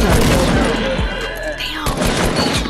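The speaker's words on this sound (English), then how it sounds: "Masao, why are you shooting the ground?" Video game gunfire rattles in fast repeated shots, loud and close, with an excited voice speaking partway through over the shooting.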